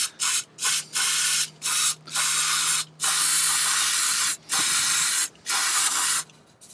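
3M fuel system cleaner sprayed through a straw nozzle into a Honda Civic engine, a series of about eight loud, close hissing bursts of varying length separated by brief pauses, with no talking.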